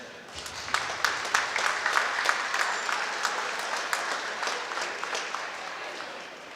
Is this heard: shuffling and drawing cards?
no